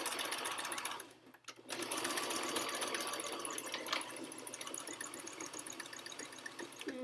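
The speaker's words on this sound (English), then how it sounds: "making sure our needle is in the down position, so we make sure that it's sewing straight" A sewing machine stitching fabric with the needle and presser foot down, a steady close mechanical whir that stops briefly near the start and then runs on continuously.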